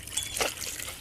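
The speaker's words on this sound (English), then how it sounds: "I'm going to put in my water, and this mixture is going to be" Water is poured into a Portland cement and sand mix in one short, close splash of trickling liquid.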